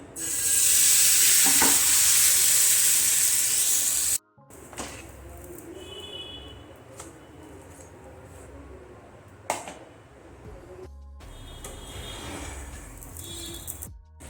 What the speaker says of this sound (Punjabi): ਤਵੇ ਤੇ ਥੋੜਾ ਥੋੜਾ ਘਿਓ ਲਾ ਕੇ ਤੇਲ ਲਾ ਕੇ ਫਿਰ ਆਪਾਂ ਇਹਨੂੰ ਇਸ ਤਰ੍ਹਾਂ ਹੀ ਪਾਈ ਜਾਣਾ